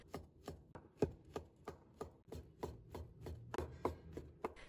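Shiitake mushrooms are minced with a knife on a cutting board, a steady run of sharp, close chops at an even quick pace with no talking.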